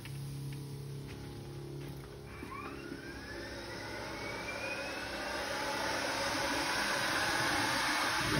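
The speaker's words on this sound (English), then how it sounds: "This machine has the ability to shoot 25 feet with its turbo fan" A turbo fan electrostatic disinfectant mist sprayer runs during airport cleaning. It makes a loud, steady, broadband whooshing roar that swells gradually over several seconds, with no talking.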